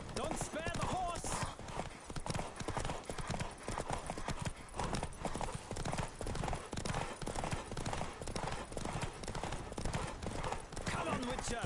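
Rapid hoofbeats of a galloping horse in The Witcher 3: Wild Hunt pound in a fast, steady rhythm, with a brief whinny early on and a voice speaking over the clatter.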